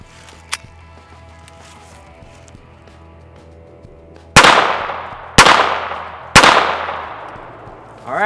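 Three sharp .22 Long Rifle shots from a Ruger Mark II pistol fired at a septic pump, loud and evenly spaced about a second apart, each with a ringing decay, after a quiet lead-in with a faint click.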